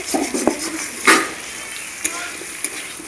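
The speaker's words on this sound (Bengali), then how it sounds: "সমস্ত সবজি ভালো করে ভাজা হয়ে গেছে।" Mixed vegetables, including greens, stalks, pumpkin and potato, fry in a pan under a constant bright sizzle. A utensil stirs and scrapes through them, with one loud scrape and a few sharp taps against the pan.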